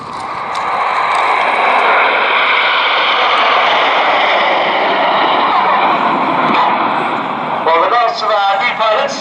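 Red Arrows jets flying past at the Old Warden Shuttleworth airshow, a loud sustained broadband roar close overhead that swells and fades slightly, with a commentator talking over it throughout.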